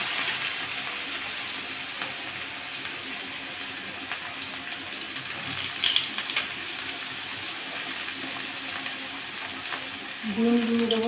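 Carrots fry in hot ghee and oil with a steady hiss and crackle, plus a brief louder burst near the end, close up and without talk.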